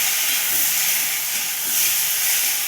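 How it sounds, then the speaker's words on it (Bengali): Mango pieces, with the stone, fry with garlic in a tempering: a close, steady, loud hiss that swells slightly midway, with no voices. "ভালো করে রসুনের সঙ্গে ভেজে নেব"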